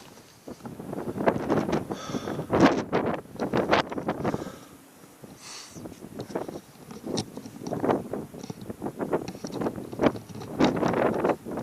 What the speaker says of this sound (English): There hasn't been too much filming today because it's been so windy.